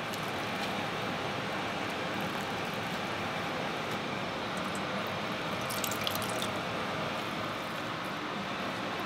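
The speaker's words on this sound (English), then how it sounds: "So 10 minutes after, see, a lot of water. So we are going to squeeze out." Water trickling and dripping as brine is squeezed out of salted, withered radish, a steady wet splashing sound heard close up with no talking.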